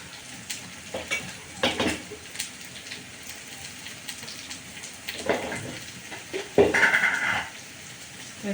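Onions sautéing with cluster beans, curry leaves and dried red chillies in a pan, a continuous soft sizzle with occasional stirring scrapes and a brief louder hiss, close by.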